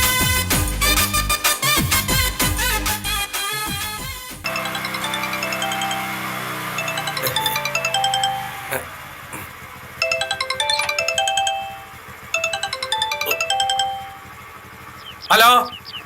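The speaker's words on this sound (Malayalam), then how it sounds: "ഫോൺ വന്ന് അറ്റൻഡ് ചെയ്യാൻ അറിയൂ?" Mobile phone ringtone chiming in a home, a loud bright melodic tune that repeats in patterned bursts for most of the stretch, with a deeper electronic start and a short louder burst near the end.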